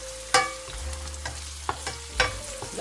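Onions for a homemade Italian risotto fry in a pan with a low, steady sizzle, broken by a few sharp stirring clacks and scrapes, close and fairly quiet.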